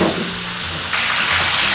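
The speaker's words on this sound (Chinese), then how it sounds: "油热过后下入鱼骨鱼头" Fish bones and a fish head drop into hot oil in a wok, and a loud, close crackling sizzle swells partway through and then holds steady.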